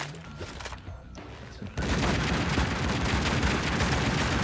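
Gunfire in the video game Tomb Raider Legend, with a dense, continuous rattle of rapid shots erupting after a quieter, muffled opening and carrying on loudly to the end, with no talk.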